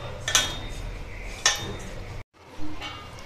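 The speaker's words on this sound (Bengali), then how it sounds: "তেলটা দিয়ে আবার খুব ভালো করে মিশিয়ে নিচ্ছি।" Utensil clinks against a bowl twice while samosa flour is mixed with oil by hand in a kitchen, short metallic taps over quiet room noise, followed by a brief silence.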